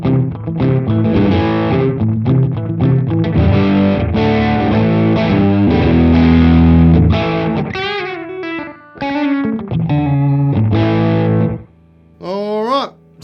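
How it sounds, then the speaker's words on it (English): A guitar played through a Sonicake Twiggy Blues multi-effects pedal with slapback delay, loud distorted chords and single notes with short echoing repeats, ending in a few bent notes separated by brief gaps. "That's probably a nice slapback speed there."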